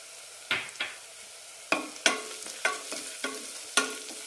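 Spice powders for a beetroot curry are sautéed in a pan, with a spatula scraping and stirring in sharp, irregular strokes over a faint sizzle, about eight distinct scrapes with no talk.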